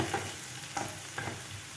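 Potatoes frying in a pan for a potato omelette, stirred now and then: a steady close sizzle with a few soft scraping stirs breaking through, no voices.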